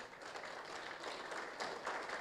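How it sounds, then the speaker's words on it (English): An audience at a digital transformation forum claps in a soft, steady patter that stays at an even level for a couple of seconds, fairly distant and quiet. "A hand of applause to"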